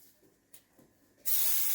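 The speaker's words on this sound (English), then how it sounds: "non-stick cooking spray" Non-stick cooking spray hisses loudly and continuously from an aerosol can into a brownie mold, a single sustained burst following a few quiet handling sounds.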